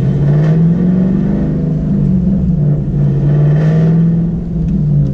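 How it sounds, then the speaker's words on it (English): Chevrolet Camaro with a manual clutch, heard from inside the car as a loud, steady low engine drone with a slowly wavering pitch while the clutch is let out. "I am getting a little bit of noise when I'm letting off of the clutch"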